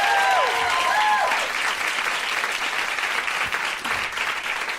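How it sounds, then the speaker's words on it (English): A live audience applauds steadily at a recorded podcast show in a performance space, dense clapping holding loud throughout with a brief voice-like tone near the start. "So please give them a round of applause."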